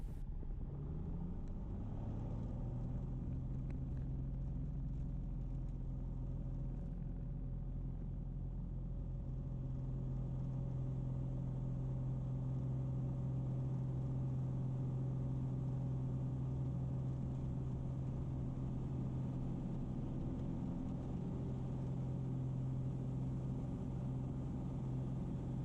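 The engine of a Piper PA-24 Comanche runs at full power on the takeoff roll, a steady loud low drone with a strong hum that settles in after the throttle comes up.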